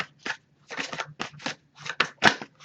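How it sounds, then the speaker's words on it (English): Quick bursts of papery riffling and soft slaps as a tarot deck is shuffled, several short shuffles in an uneven rhythm, close by with no talking. "I'll give it a few more shuffles"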